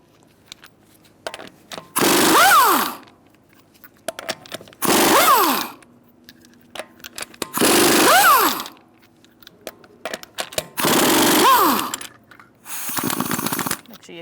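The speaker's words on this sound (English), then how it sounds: "Using a 19mm socket, I'll take off our lug nuts." Pneumatic impact wrench with a 19mm socket removing lug nuts from a Ford Taurus front wheel, five loud rattling bursts of about a second each, separated by quiet gaps with light clinks.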